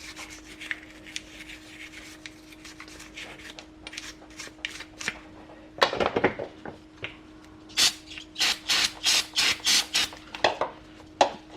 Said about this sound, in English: we're going to get our toothbrush and we're going to clean all this crud off these little tabs